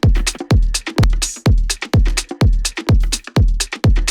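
A programmed beat's drums with a rim shot drenched in reverb hit in a steady, punchy pattern, roughly two strong hits per second, each decaying into a washy tail, loud and close with no talking.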